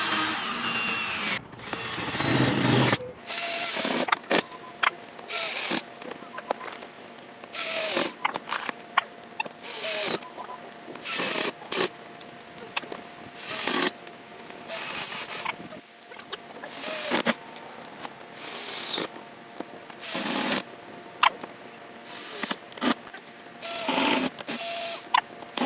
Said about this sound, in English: we have to drill in some screws